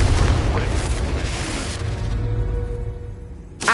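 A Confringo explosion spell from Hogwarts Legacy bursts with a loud, heavy boom, then a rumbling blast decays over a few seconds before a sharp new impact hits at the end.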